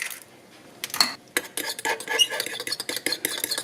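A fork briskly beats an egg white in a bowl, making fast, close clinking and tapping with a light, uneven rhythm.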